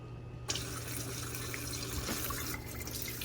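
Tomato seed mixture poured into a strainer at a kitchen sink, a steady watery rush and splatter starting abruptly and running on, fairly close.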